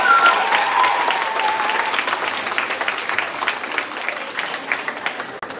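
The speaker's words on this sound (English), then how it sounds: "give yourselves a massive round of applause for these wonderful under fives" Sustained audience applause from teachers, parents and grandparents for under-five dancers at a dance competition, a dense wash of clapping loud at first and easing slightly, with a few brief voice traces near the start.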